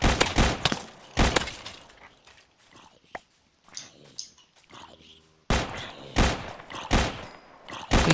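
Bursts of rapid video-game gunfire from a Minecraft-style shooter come in loud clusters at the start and again near the end, with quieter clicks and effects in between.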